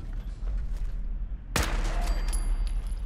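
A powerful weapon fires once in Fallout 4, a sharp loud blast cutting through a low droning background hum, followed by a fading rumble and faint mechanical ringing.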